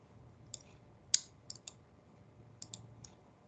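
A computer mouse clicking while working in ArcGIS software: a handful of faint, crisp clicks, some single and some in quick pairs, in a quiet room.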